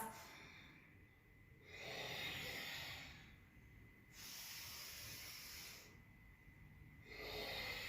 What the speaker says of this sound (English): Deep breathing through the nose,